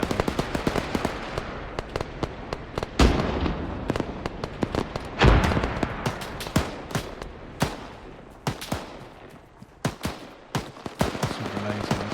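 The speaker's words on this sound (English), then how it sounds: "They're starting to get some artillery out on the guys." Arma 3 battlefield on a snowy Altis map with artillery and gunfire going off: a sharp cracking stream of shots and several heavier booming blasts, some near and some farther off, with faint voices underneath.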